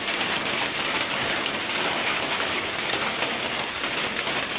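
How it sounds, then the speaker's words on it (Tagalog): Heavy rain pours down steadily and loudly as a dense, even hiss close by, with no voices. "Ulan kaayo."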